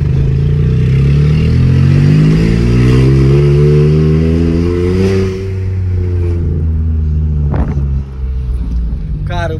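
Loud, close engine of a Stage 3 tuned Volkswagen up! revving up and down with a rumbling exhaust, pitch sweeping smoothly, followed by a brief pop and quieter idling.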